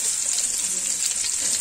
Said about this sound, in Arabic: أنا نشوفو بلي الطون ديالنا بدا يطيب